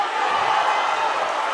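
Crowd at a live boxing match reacting with a dense, steady roar of many voices that holds loud and unbroken throughout.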